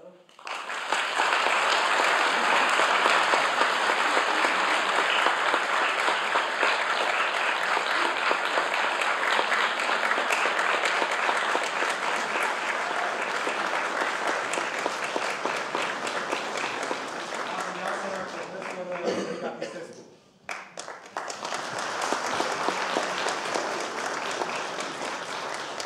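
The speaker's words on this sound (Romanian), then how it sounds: "pe care ne invită în scenă la aplauze dumneavoastră" Sustained concert audience applause at an Easter concert in Focșani, a dense wash of clapping that stays loud, briefly dips near the end, then swells again.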